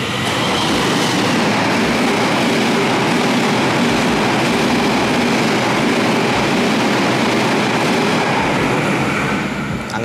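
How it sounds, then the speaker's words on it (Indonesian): A train passes close by at an abandoned railway station, a loud, continuous rumbling roar of wheels and carriages that fills the whole stretch before easing slightly at the end. "Itu kelewat lagi keretanya."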